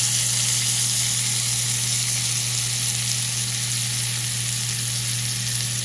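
A beef burger patty frying in butter in a pan, producing a loud, even and continuous crackling sizzle close up, with no talk over it.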